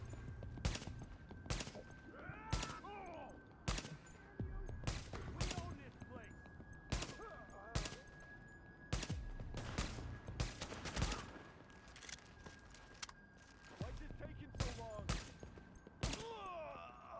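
Repeated gunfire bursts and scattered single shots in The Division, a third-person shooter, with a steady electronic tone and a voice talking now and then.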